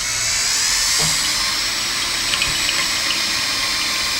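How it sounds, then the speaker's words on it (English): A Harbor Freight power drill bores a hole through a metal seat bracket for a Scion tC seat swap, a steady loud whine that runs the whole time with no break, close up and with no talking. "We're gonna drill a hole in the middle, get your hole punch so you can center the drill perfectly."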